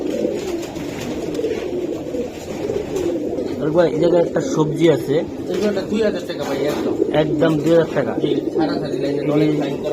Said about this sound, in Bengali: বাহ অনেক সুন্দর নটটা ডাকতেছে